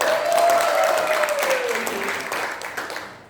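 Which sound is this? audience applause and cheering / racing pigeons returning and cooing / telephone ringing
audience applause and cheering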